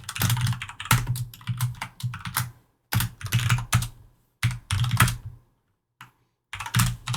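Rapid bursts of typing on a computer keyboard, with clustered keystrokes separated by short pauses, loud and close, with no voices.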